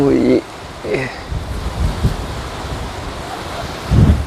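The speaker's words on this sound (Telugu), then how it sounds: "అందులో గాలి ఎక్కువ ఉంది" Strong gusty wind buffets the microphone on a steep, rocky hiking trail, a low rumbling roar that runs throughout under brief bursts of a person talking.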